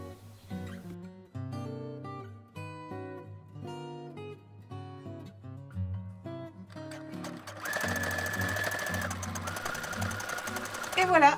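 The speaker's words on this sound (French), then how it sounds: "je vais aller coudre à la machine" A sewing machine stitches a fabric handle for an Easter bunny basket, running in a loud, steady mechanical whir for the last few seconds after a stretch of background music and quieter activity.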